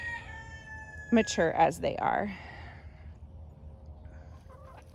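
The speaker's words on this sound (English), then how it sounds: "Chickens make gardening easier." Backyard garden chickens cluck in a short burst of squawky calls, close by, with a brief voice mixed in and quiet background before and after.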